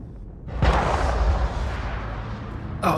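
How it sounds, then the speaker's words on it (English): Gunfire in the Mass Effect video game erupts as a loud, sharp burst followed by sustained rumbling battle noise, with another burst at the end. "the sound of gunshot"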